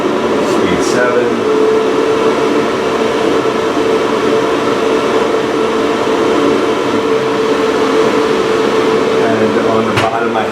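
A homemade HEPA fume extractor fan for a dental office running at speed 7, a loud, steady close whoosh of rushing air with a constant motor hum, continuing unbroken from start to end, with a couple of brief clicks.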